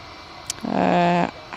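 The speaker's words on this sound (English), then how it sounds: "Got the Aer Lingus A321 Neo coming out, I think." An Aer Lingus Airbus A321neo jet departs Manchester Airport, a short swelling roar with a steady tonal whine that rises, holds for about half a second and cuts off, moderately loud over low background rumble.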